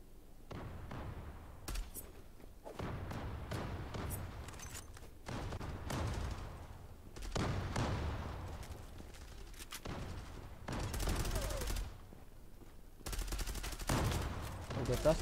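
Gunfire in the online shooter Zula during a pro league match, with bursts of shots and thuds recurring across the clip, mid-distance and fairly loud, with faint voices underneath.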